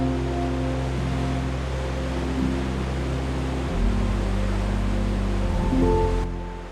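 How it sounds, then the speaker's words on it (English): Gentle sea waves wash against the rocky shore at Ksamil, Albania, a steady, soft surf hiss running throughout with a low constant rumble beneath and slight swells in level, no voices. "listen to the sea, and hear the gentle waves softly brushing against the rocks"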